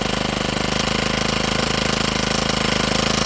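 A grass cutter engine runs after starting with its throttle set slightly high, giving a loud, steady, rapidly pulsing drone heard up close.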